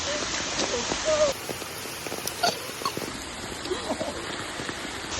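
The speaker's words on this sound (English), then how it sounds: "Sometimes you get rained out." Heavy rain pours down during an outdoor creekside summer photo shoot, a dense continuous hiss of drops on surfaces that carries on without a break, with brief muffled sounds mixed in.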